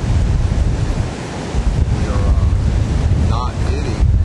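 Hurricane Ike surf and strong wind on a Gulf Shores, Alabama beach near Little Lagoon, a loud continuous roar of crashing waves with heavy wind buffeting the microphone throughout, no talking.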